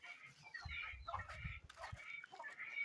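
A Brahma chicken clucks softly and repeatedly near a bird-raising pen, low throaty clucks mixed with higher chirping calls from nearby fowl, fairly faint and steady.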